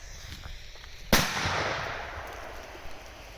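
A single sharp New Year's Eve firecracker blast cracks out after a quiet moment, then a long fizzing, rumbling decay fades slowly away.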